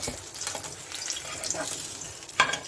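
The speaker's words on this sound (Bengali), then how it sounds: "আর বাকি যেগুলো আছে আমি ঠিক এইভাবেই ভেজে নেব" Stuffed jackfruit pakoras deep-fry in hot oil with a steady, fairly soft sizzle, occasional bubbling bursts and a brief sharper clatter near the end, with no talking.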